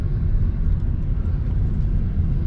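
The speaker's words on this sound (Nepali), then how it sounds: "हेर्न सक्नुहुन्छ माथि प्लेन उडिरहेको छ।" A Virgin Australia airliner flies overhead near North Curl Curl beach, a steady broad roar that fills the whole clip with no talk.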